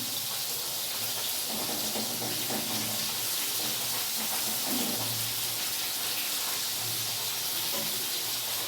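Fish fries in a heated wok-style pan, making a steady, even hiss that holds at the same level throughout with faint spatters underneath.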